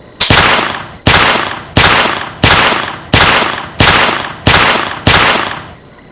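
A Ruger 10/22 rifle converted to full auto fires eight sharp, close, loud shots at a steady, evenly spaced rhythm, with no talk.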